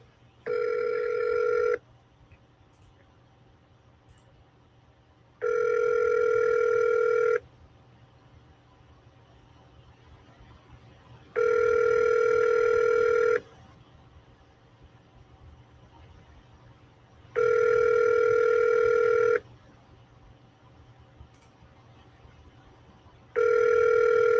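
Ringback tone on an outgoing telephone call: five evenly spaced tonal bursts, each about two seconds long, separated by roughly four seconds of quiet line hiss, steady and clear with no talk.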